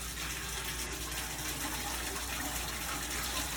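Water pours steadily from the open drain valve of a Royal commercial fryer into a filter tub, a constant close gushing and splashing with no speech.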